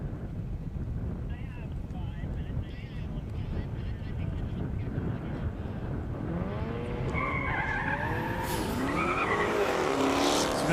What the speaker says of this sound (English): Sounds like maybe the Gringo Taker himself, Miles Kerr's coming back out, make another pass